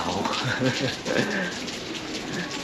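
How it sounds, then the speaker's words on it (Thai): Heavy rain falls steadily outdoors on a cold day in Shangri-La, a dense, continuous hiss close around, with faint bird cooing and brief voices mixed in. "ฝนตกหนัก"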